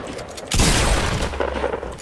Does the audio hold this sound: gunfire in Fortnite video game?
yes